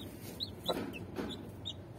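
Soft hen clucks in a couple of short bursts, close by, with faint rustling and chirps from chicks in the background.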